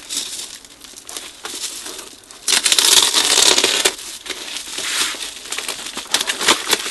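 A sharp knife cuts open a cardboard delivery box, giving close, loud scraping, crunching and crinkling of cardboard in uneven bursts, with the strongest tearing stretch in the middle and no voices.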